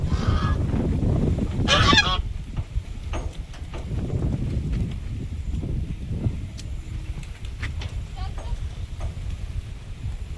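Ducks on a windy morning giving loud honking, quacking calls, a burst early on then scattered calls against gusting wind and rustling; a voice is briefly heard.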